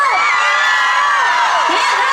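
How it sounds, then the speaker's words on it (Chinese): A crowd at an outdoor Taiwanese-language pop concert in Zhongli screams and whoops in a dense, loud burst, with high shrieks rising and falling throughout. "我们要先测试一下现场的尖叫声"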